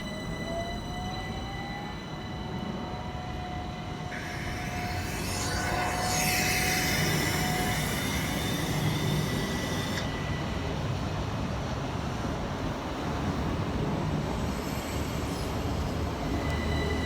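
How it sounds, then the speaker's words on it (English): Two Southern Railway class 377 electric units, 377317 and 377323, pull out of South Bermondsey station on a London Bridge to Beckenham Junction service, a steady close rumble of wheels on rail with a brief squeal and rising motor whine. "Departing next to the station is 377317 and 377323 with the 1518 Southern Railway service from London Bridge through to Beckenham Junction."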